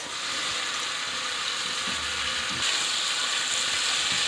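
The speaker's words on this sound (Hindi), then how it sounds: "फिर हम इसमें डालते हैं जी शिमला मिर्च और प्याज" Capsicum and onion sizzling as they hit sautéed ginger and garlic in a pan, a steady bright frying hiss that swells slightly louder partway through, with faint clinks underneath.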